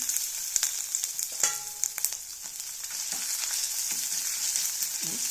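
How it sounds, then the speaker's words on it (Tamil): Chopped ginger and garlic sautéing in hot oil after mustard seeds for a Tamil chala fish curry, a steady close sizzle with occasional clinks and scrapes of a stirring spoon. "நல்லா வதங்கட்டும்"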